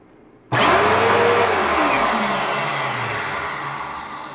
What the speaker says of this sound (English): we can plug it in to check and see if the brush bar is spinning